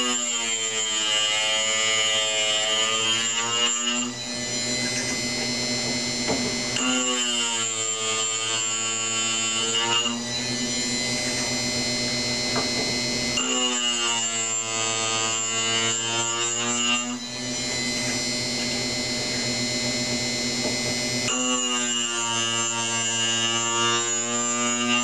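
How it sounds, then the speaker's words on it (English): A Cuttermasters ES 3B cutter grinder grinding end mill flutes gives a loud, steady buzzing whine with rising and falling tonal sweeps, changing in repeated cycles of a few seconds each as the cutter is worked against the wheel. "Make sure that you grind until it's kind of quiet."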